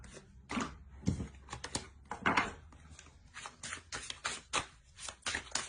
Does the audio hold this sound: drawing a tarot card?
yes